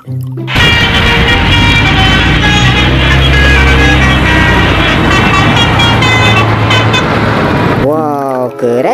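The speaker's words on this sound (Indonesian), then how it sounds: "yang ini mobil bus tolalet" A loud telolet horn on a bus blares close by in a long, continuous melodic toot lasting several seconds, then cuts off abruptly and leaves a brief wavering tail.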